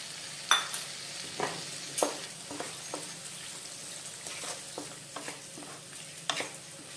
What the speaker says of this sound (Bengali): এবার মশলাটা একটু ভালো মতো কষিয়ে নিব